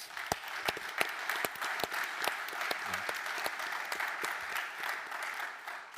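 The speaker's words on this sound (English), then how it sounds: "round of applause" Conference audience at Radiodays Europe 2024 giving a round of applause, with many distinct sharp claps standing out over a steady bed of crowd clapping at moderate level.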